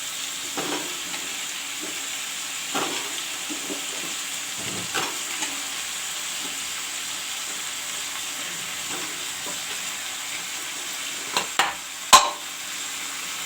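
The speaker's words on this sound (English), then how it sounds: "Friends, now I will put in the potatoes also." Potatoes frying in a pan for sehjan, a steady close sizzle running throughout, with a few soft stirring knocks and a sharper clink near the end.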